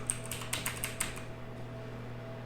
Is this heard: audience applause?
no